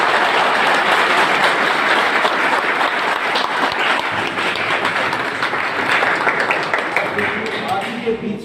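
Audience applause for a lecturer at a Hindi-language youth motivational event, a dense, loud crowd clapping that carries steadily for the whole stretch and tapers slightly near the end.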